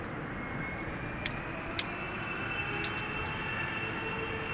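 A Vueling airplane in a special livery moves through Amsterdam Schiphol Airport, a steady, moderately distant jet roar with a few faint clicks and ticks on top, and no speech.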